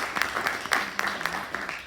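Scattered audience clapping at a university education event, a brief patter of hands with some murmuring voices underneath.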